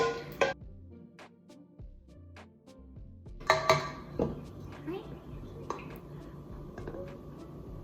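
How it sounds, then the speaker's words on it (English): A whisk clinks and taps against a bowl while wet ingredients for gluten-free chocolate cupcakes are mixed, in irregular bursts of metallic ticks, close and fairly quiet, with a pause in the middle. "we're just going to whisk our wet ingredients"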